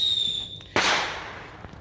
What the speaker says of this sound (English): that's my neighbor shooting off fireworks